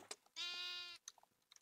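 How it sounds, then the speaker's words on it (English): A single sheep bleats in a farming video game, one clear wavering call of about half a second, close and fairly faint, with small clicks and game sounds around it. "let's go ahead and cut these sheep here"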